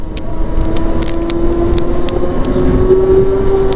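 Ola Roadster X+ electric motorcycle underway, a steady whirring motor hum with a thin rising whine over wind and road noise, close and continuous with no talk.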